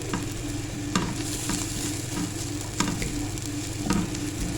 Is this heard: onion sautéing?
yes